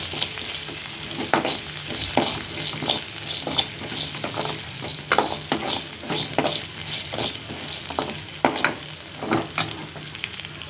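Sliced large onions sauté with rock salt in a pan for sundakkai thuvayal, giving a steady close sizzle with frequent spoon stirs and scrapes throughout, and no voices.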